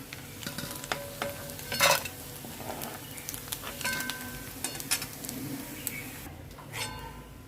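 Dried prawns fry and sizzle in a pan, with a steady crackle under repeated stirring and scraping, and a few sharp clinks of a spoon against the metal as the prawns are lifted out.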